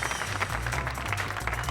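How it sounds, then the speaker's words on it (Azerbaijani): Applause from a studio audience for the crew of a car show, a steady dense wash of clapping that runs throughout, with low musical tones underneath. "bizim heyətimizə bir alqışlar ünvanlayasınız"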